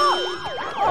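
Wailing police siren in a SpongeBob cartoon, a rising and falling sweep that repeats quickly and sounds fairly close and loud, with no talk over it.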